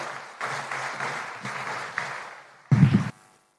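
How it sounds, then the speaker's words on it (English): Audience applause greeting President William Ruto of Kenya at an official ceremony at KICC, a broad steady patter of clapping that swells into a louder burst near the end, with no talk over it. "I request you to be upstanding and help me to usher in, with clapping, the President of the Republic of Kenya, Dr. William Ruto."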